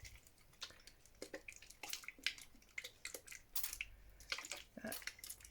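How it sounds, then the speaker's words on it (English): A handheld water spray bottle misting oxide ink on an artist's journal cover in an art studio, giving a quick, irregular run of soft, hissy spritzes, close and fairly quiet, with no talking. "I'll take my water spray."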